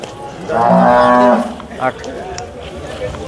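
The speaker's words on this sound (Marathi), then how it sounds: "मोठ्या मापाची म्हैस आहे" A large buffalo at a cattle buffalo market in Sangola gives a loud, close moo lasting about a second, followed by quieter market noise and a brief distant call.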